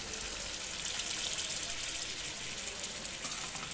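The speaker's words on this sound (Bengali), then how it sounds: "বন্ধুরা এখন ওদের ঝোল দিচ্ছি। ঝোল বেশি দেবো না, অল্প দেবো।" Beef curry broth poured into a cooking pot in a village kitchen, a steady close hissing gush of liquid running continuously without pause.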